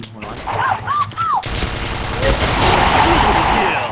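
Bursts of rapid gunfire from an online shooting video game rattle under excited voices of players talking over each other.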